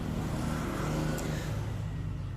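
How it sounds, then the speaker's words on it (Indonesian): A motorbike on the road beside a house rumbles past at moderate distance, a steady low engine drone with slight revving, faint and continuous under the room. "agak sedikit suara motor karena memang rumah saya di samping jalan"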